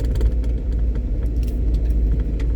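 A car drives along a road on a cold, windy, gray day, its steady low engine rumble and tyre noise running continuously and fairly close with slight rattles.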